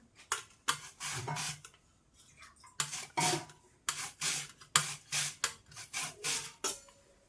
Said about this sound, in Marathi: बटाटो छानपैकी आपण किसून घेणार आहोत